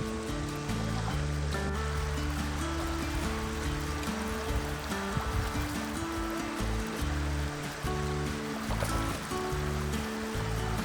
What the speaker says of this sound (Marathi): तर गाईज आता मी क्रॉस करतोय नदी